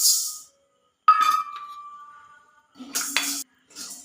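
Green gram poured into a hot metal pan while dry-roasting ingredients for Karkidakam medicinal balls: a sharp clattering burst with a lingering metallic ring, then a second rattling spill of grains after a pause, with no talk.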